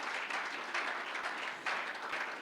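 A church congregation applauds and cheers loudly and steadily, a dense continuous wash of many hands clapping with rising surges of crowd noise throughout.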